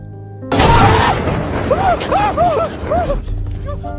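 A sudden loud gunshot blast in a zombie film as a soldier hits a zombie in the head, followed by a short run of chirping, warbling tones and rumbling.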